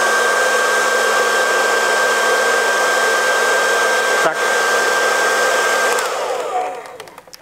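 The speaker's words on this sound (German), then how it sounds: "föhnen, volle Stufe." Hair dryer on its full setting, blowing to work grease into braided fishing line on a spool, a loud steady whine and rush that holds, then winds down at the end. A single short word is spoken briefly.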